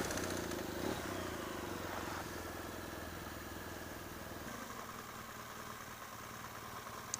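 A BMW R1200GS motorcycle with a newly replaced clutch rides along, its engine a steady, continuous drone mixed with wind rumble, close and constant throughout without talk.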